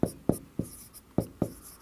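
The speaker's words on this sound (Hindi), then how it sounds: "लेकिन यहां पर लिख देते हैं" Chalk or marker strokes on a board during a science lecture, five quick sharp taps and scratches in an uneven rhythm, close and clear.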